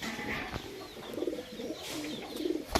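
A female pigeon coos close by in soft, low repeated phrases, with light chirps and handling noise around it.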